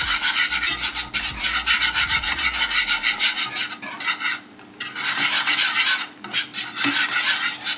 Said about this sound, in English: So just keep on whisking.